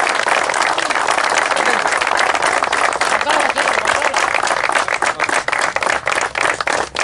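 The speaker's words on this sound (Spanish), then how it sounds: "Aplauso por el deporte" Loud, dense crowd applause at a football club award ceremony as trophies are handed out, sustained steadily throughout and thinning slightly toward the end.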